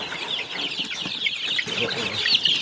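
Young chicks in an indoor brooder partition peep continuously, a dense cluster of high chirps at close range with faint rustling beneath.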